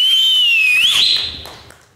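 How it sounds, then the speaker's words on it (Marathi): A shrill, loud whistle from the stage of a Marathi comedy show, one sustained note that dips and rises in pitch before fading out over about two seconds. "पहिली शिट्टी तुमच्यासाठी."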